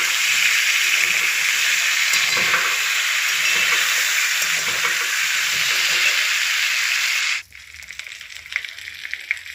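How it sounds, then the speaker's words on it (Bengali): Pre-boiled potatoes fry in leftover oil in a pan, giving a loud, steady sizzle with light scraping from stirring, which drops off sharply near the end and leaves quieter, scattered crackles. "আগে থেকে সেদ্ধ করে রাখা আমি আলুগুলো বাকি অবশিষ্ট তেলের মধ্যে দিয়ে একটু নাড়াচাড়া করে নেব।"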